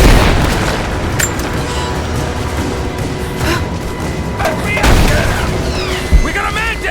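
Gunfire in the PC game Rise of the Tomb Raider: loud booming shots and bursts over a dense combat soundscape, with shouted voices mixed in and a sharp crack near the end.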